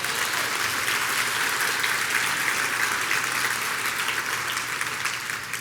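A church congregation breaks into steady, dense applause that holds at an even, loud level throughout, with no speech over it.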